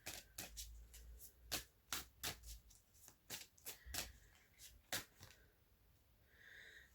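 Oracle cards are shuffled and drawn by hand in a quiet room, a rapid series of crisp riffling flicks and snaps in irregular bursts, close and soft, with no talking.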